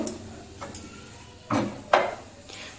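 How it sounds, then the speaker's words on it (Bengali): Stirring grated carrot halwa in a pan on low heat, with a few distinct scraping and clinking strokes of a spoon against the pan, spaced irregularly and fairly close, over quiet background. "তো এটা দিয়ে আরেকটু সময় ভালো করে নেড়ে চেড়ে নেব।"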